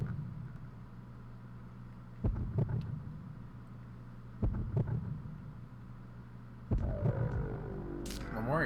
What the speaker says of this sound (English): The heartbeat of the Shadow Dragon.